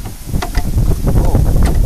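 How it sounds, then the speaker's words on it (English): Low, blustery rumble of wind buffeting the microphone, steady and continuous throughout. "a little windy, so I hope you can hear me pretty good."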